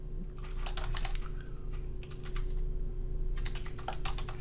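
Rapid keystrokes on a computer keyboard as a search query is entered, coming in quick bursts with a short pause midway, close and steady over a low constant hum.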